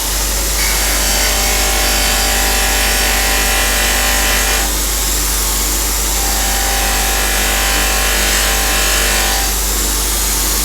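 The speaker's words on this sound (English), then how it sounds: "flap wheels like this, which is again sandpaper on here" A 320 grit flap wheel spins against metal for a shiny finish, a loud continuous abrasive whir with steady hiss that surges slightly as pressure changes, no talking.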